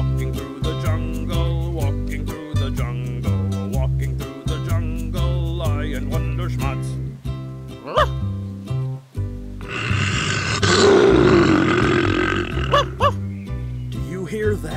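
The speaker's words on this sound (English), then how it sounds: "Well, this is a tiger. It growls horribly," A cartoon tiger growls in a loud, rough, sustained burst lasting a few seconds, following stretches of narration and music that run before and around it.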